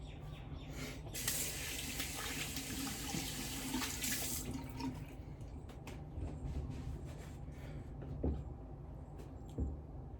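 Water runs from a tap, rinsing shaving lather off a razor or face at a sink, a steady splashing flow heard up close with a brief louder gush early on and no voices.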